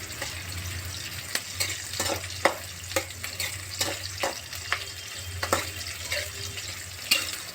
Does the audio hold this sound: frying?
yes